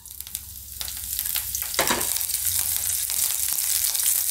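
Green chillies dropped into hot oil for a tempering, crackling in a continuous close sizzle, with a few spoon knocks against the pan.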